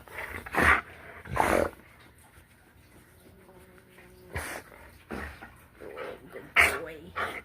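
A puppy whimpers and gives short yelps in a few brief bursts, close by, while a person speaks softly to it between the sounds.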